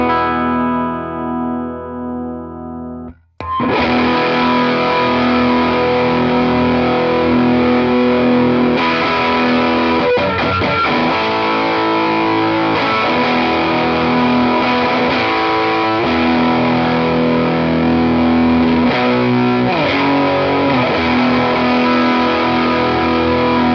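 Heavily distorted electric guitar, a thin-sounding Jazzmaster through a Walrus Audio RED distortion pedal, playing continuously and loudly, thick saturated chords and notes ringing out after a brief cleaner, quieter opening.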